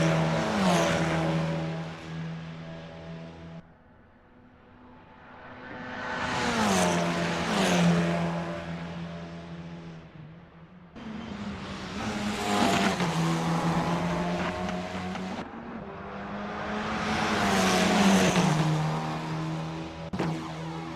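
Formula 4 race car engine lapping Bathurst in Assetto Corsa, its loud, close drone swelling and dropping through repeated gear changes and braking zones, with no voices over it.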